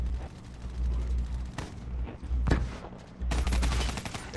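Rapid bursts of Kuda gunfire in Black Ops 3 online play on PS3, fitted with a Varix 3 sight and long barrel, crackle in several loud automatic volleys separated by brief pauses.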